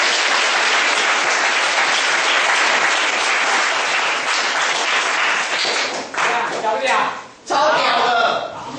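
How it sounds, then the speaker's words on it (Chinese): Audience of junior high students applauding at a campus lecture, dense loud clapping that carries on for several seconds before thinning out and briefly dropping away, then picking up again. "鼓掌，谢谢。"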